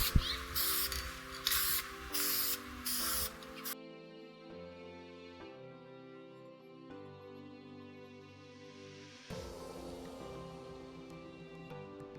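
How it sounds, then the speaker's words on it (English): Aerosol spray paint hisses onto wheel rims in short repeated bursts, loud and close, then gives way to a quieter stretch before a longer hissing spray returns near the end. "The third and final coat will be another medium wet spray."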